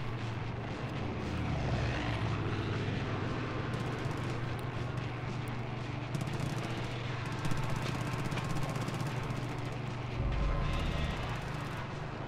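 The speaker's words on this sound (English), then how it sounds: "Why there are so many airplanes in this game." Low droning airplane engines in the video game Far Cry hum steadily throughout, with faint crackling and rumbling bursts layered over the drone.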